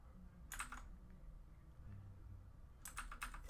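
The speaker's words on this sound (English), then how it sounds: "I'm not really putting any sounds except for like the keyboard and me talking." A computer keyboard is typed on in two short bursts of quick, light clicks, one near the start and one near the end, very quiet over a low background hum.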